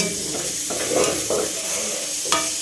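A fish head with mustard paste and water cooks in hot oil in a pan, giving a loud, continuous bubbling sizzle close up, with a few stirring scrapes and no talking.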